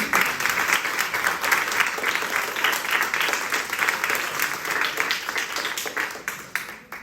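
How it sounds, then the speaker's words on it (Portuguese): Applause from a school audience after a class project presentation, steady crowd clapping sustained for about seven seconds and tapering off at the end. "Uma salva de palmas"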